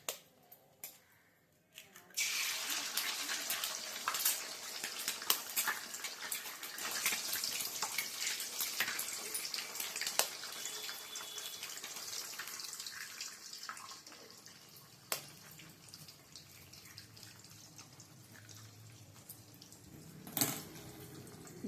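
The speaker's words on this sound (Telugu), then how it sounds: "గుడ్లు బాగా ఫ్రై చేసి," Eggs drop into hot oil for egg semiya, and a sudden loud sizzle bursts in after a quiet opening. The crackling fry then carries on steadily, with a few sharper pops, and no one talks.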